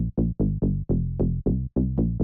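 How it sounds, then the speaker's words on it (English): A deep synth bass from the Serum preset Bass Drag, built from two oscillators in a tech house style, plays alone in a steady rhythm of about ten short, punchy notes with harmonic-rich tails. "Really nice and deep bass, which consists out of 2 oscillators."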